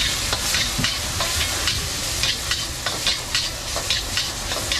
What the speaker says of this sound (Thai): เดี๋ยวเก็จะทำเป็นผัดไทยนะทุกคนนะ เป็นผัดไทย เส้นจันทร์สูตรโบราณนะ